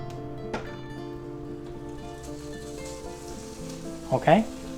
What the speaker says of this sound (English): while our ham's toasting